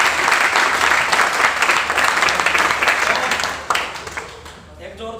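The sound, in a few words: audience giving loud applause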